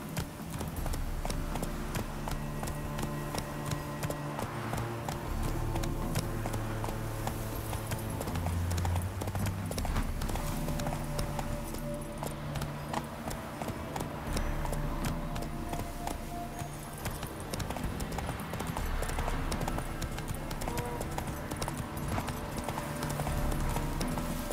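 Roach the horse from The Witcher 3 clip-clopping along in a steady rhythmic gait, hoofbeats clear and continuous over a sustained musical and ambient game backdrop.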